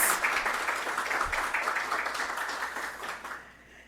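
Audience at a law exam preparation workshop clapping as a guest is invited to the panel, a continuous fairly soft wash of applause that fades out near the end.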